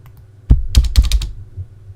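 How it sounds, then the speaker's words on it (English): Several computer keyboard keys pressed in a quick irregular burst of sharp, close clicks while playing Phoenix Wright: Justice For All on an emulator. The taps cluster together and then trail off into quiet room tone, with no talking. "I'm pressing all the keys."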